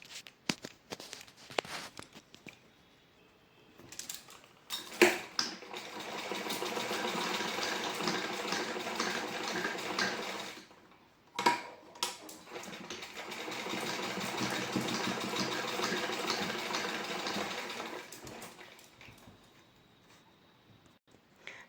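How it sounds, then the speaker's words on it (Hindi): Sewing machine stitching lace onto a blouse neckline, running in two long steady bursts of even whirring separated by short pauses and scattered handling clicks. "अभी मैं मशीन से इसको सिक्योर करूँगी"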